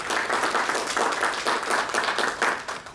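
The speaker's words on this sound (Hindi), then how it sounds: "जोरदार तालियों से हमारे आज के आदरणीय वक्ता जी का स्वागत करें।" An audience at a lecture seminar breaks into sustained applause to welcome the guest speaker, a dense, even roar of many clapping hands that holds steady without pause for the full few seconds.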